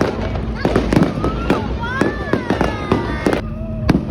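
A fireworks display at MOA (Mall of Asia) fires off a rapid string of sharp bangs and crackles, some with rising whistles, while spectators chatter nearby.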